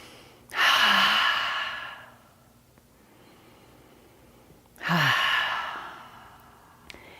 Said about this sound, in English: Inhale in through the nose, out through the mouth.